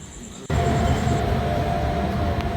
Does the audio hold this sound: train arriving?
yes